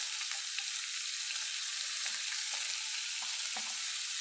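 Salt, black pepper and cumin fry in a pan for a meatless moussaka, giving a soft continuous sizzle broken by a few light stirring scrapes.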